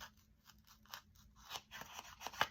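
An awl pokes through the center of a paint swatch color card, a few soft scratchy crunches and rustles of thin cardboard close up, quiet with a sharper crackle near the end.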